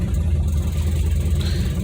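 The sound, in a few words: 1959 Edsel car engine running after being started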